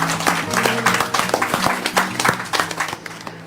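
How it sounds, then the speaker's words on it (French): A room full of diners applauds a restaurant owner in Moissac, with steady, fairly loud clapping and sharp individual claps over the din. "C'est énorme quoi, tu te fais applaudir"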